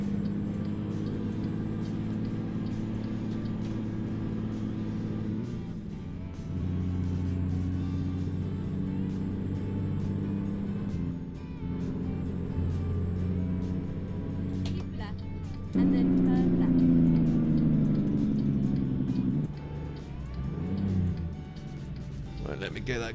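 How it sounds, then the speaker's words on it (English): Peterbilt 350 truck engine in American Truck Simulator, a steady low diesel rumble that rises in pitch as it is revved hard, rising louder near the end, with someone talking over it. "I'm revving the nuts out of it"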